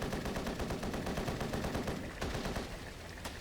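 Rapid, continuous minigun fire in the aerial combat game Air Brawl, a dense rattling stream of shots with brief sharp cracks near the end, loud and unbroken by talk.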